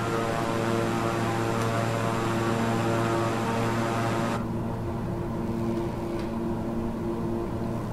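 A Beechcraft King Air 350i turboprop in Microsoft Flight Simulator drones with a steady, loud propeller hum and engine whine holding firm tones throughout, and the high hiss drops away partway through while the low drone carries on, with no talking.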